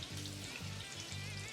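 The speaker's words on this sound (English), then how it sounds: "we got those bubbling in the oil" Yams frying and bubbling in hot oil in a fire station kitchen, a steady close sizzle with soft crackling pops and a low bubbling rumble underneath.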